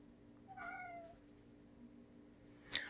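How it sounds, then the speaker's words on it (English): A cat meows once clearly and close, a drawn-out wavering cry over a faint room hum, followed by a short sharp noise at the end. "get out of here, that's my cat."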